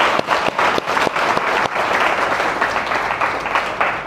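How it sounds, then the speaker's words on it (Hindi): A church congregation claps in praise during a weekly Hindi-language worship service, dense overlapping applause with a few sharper individual claps standing out, steady and fairly loud throughout. "बोलो प्रभु यीशु मसीह जी की, यीशु की महिमा में ताली।"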